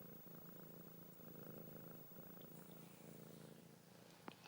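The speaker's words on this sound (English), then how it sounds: "Can you hear her purr?" A cat purring very close and soft, a steady low rumbling drone with faint pulsing, ending with a small bump of noise.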